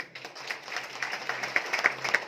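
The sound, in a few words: audience applause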